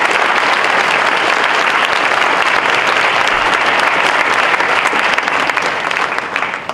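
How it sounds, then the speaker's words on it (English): Sustained round of audience applause honoring teachers of the year at a county board of education meeting, dense and even clapping that tapers slightly at the end. "can we all please give these wonderful teachers of the year a round of applause?"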